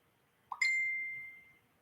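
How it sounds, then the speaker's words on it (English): A single bright phone notification ding rings out clearly in a quiet room, then its tone lingers and fades over about a second. "My phone keeps dinging."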